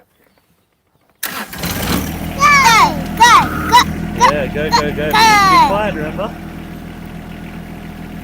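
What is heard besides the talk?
tractor engine starting and running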